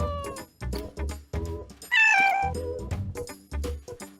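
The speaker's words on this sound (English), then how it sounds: "Cats talk to each other with meows all the time." A domestic cat gives a run of repeated meows, close and fairly loud, with one longer, higher drawn-out call in the middle and short pauses between the others.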